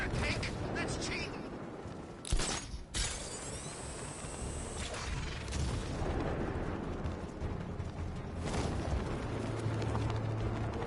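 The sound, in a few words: Batman's tank firing in Batman: Arkham Knight video game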